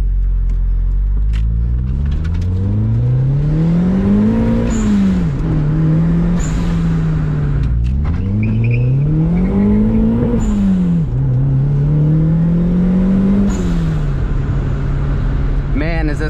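A turbocharged Mazda Miata engine drones loudly and close, rising and falling in pitch as it pulls through several gears, with steady road rumble underneath.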